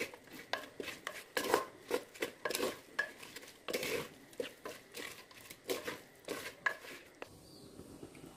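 A marinade with kasuri methi and heated mustard oil is mixed in a bowl, making a quiet series of rhythmic wet stirring strokes and light utensil scrapes, with no talking.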